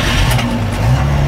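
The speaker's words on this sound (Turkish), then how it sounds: "71-yil avtomobil yarim oborotdan o't oldi." The carbureted engine of a 1971 Moskvich car, kept in original condition, runs with a loud, close, steady rumble and a slight uneven throb, with no voices over it.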